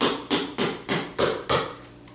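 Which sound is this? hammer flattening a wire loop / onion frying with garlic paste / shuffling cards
hammer flattening a wire loop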